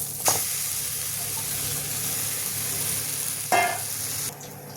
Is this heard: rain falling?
no